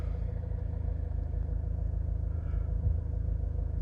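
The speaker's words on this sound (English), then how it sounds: "So I've turned the car off, we'll turn it on and start it." A Range Rover Evoque engine running close by, a steady low rumble with an even idle pulse throughout.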